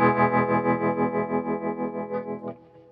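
A sustained distorted guitar chord runs through a Hardwire TR-7 modulation pedal set to a changed wave pattern, pulsing in a steady wobbling rhythm of about eight throbs before decaying away.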